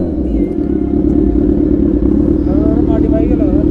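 A Kawasaki ZX-10R 1000cc inline-four sportbike, unmodified, idles and revs in neutral with a steady, loud, dense engine drone, while people talk over it throughout.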